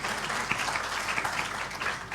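An audience at a speaking event in Indore applauds journalists and press club members with steady, dense clapping from many hands that fills the room evenly throughout.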